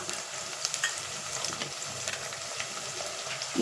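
Onions sauté in a hot pan with curry leaves and mint, giving a steady, close sizzle with light crackles and faint stirring that runs throughout.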